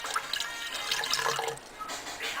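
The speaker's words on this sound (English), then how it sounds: "Now get some water and pour" Water poured into a jar, a bright splashing and trickling of liquid that is quite close, easing off toward the end with no talking.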